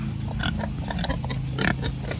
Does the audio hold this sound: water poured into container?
no